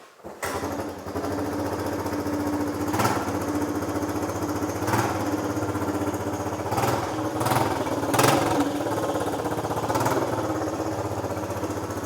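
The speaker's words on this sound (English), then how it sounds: "What we're gonna do is start up the motor." A Suzuki LT125 ATV engine catches right after a brief starting attempt, then runs on with a steady, close buzzing drone, with several short rises in revs along the way.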